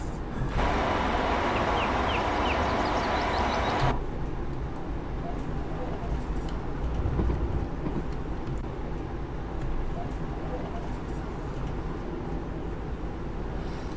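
AP Class 156 diesel multiple unit running the Glenfinnan to Fort William line in Train Sim 2021, a steady broadband rumble that is louder with a bright whine for the first four seconds, then settles into a quieter continuous drone.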